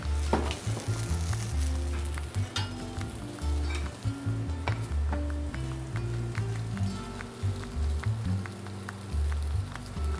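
A hot pan sizzles and fries steadily after brandy is added and it goes back over the flame, with stirring and occasional clinks of utensil on metal throughout.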